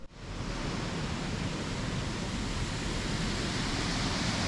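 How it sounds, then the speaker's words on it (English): A river in the Black Forest, Germany, rushes in a constant, dense roar, loud and close, with no other sounds standing out. "You would think sleeping right next to this noisy river would keep you awake all night"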